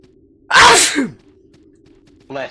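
A loud, close sneeze erupts, then fades with a short exhaled tail, and a brief voiced sound follows a moment later.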